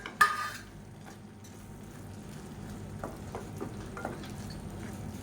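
Tomatoes sautéing in oil in a pan for a mushroom paneer bhurji, giving a low, steady sizzle with a few light scraping and stirring taps throughout, moderately quiet, no talking.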